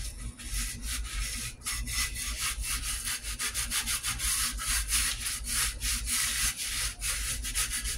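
An old cast iron pan is scrubbed with salt and cooking oil, giving a steady gritty rasping in quick rhythmic back-and-forth strokes, close and continuous with no talking.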